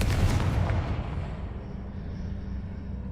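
Confringo fire spell from the video game Hogwarts Legacy, a loud booming blast that bursts at once and trails off into a long rumbling decay.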